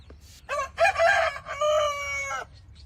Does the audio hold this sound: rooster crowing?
yes